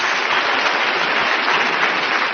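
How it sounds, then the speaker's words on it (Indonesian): A crowd claps together in a dense, even burst of applause, loud and continuous for a couple of seconds before cutting off. "Kasih tepuk tangan lebih"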